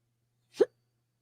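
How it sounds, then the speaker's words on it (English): A single sharp hiccup, close and brief, standing alone against near silence. "I got the hiccups."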